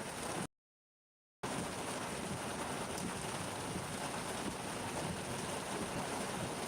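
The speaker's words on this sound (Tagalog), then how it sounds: "Sobrang lakas ng ulan" Heavy rain pours down steadily in Manila in a dense, continuous hiss, briefly cut out near the start.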